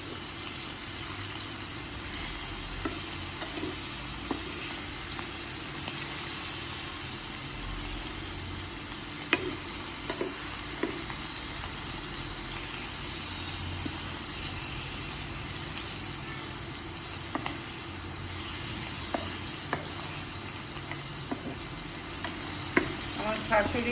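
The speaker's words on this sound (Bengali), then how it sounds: "চিংড়ি মাছটা আগে ভেজে নিচ্ছি, ভেজে রেখে দেবো" Prawns frying in a home kitchen pan give a steady, low sizzle that runs the whole way through, with occasional clicks and scrapes of stirring and no voices.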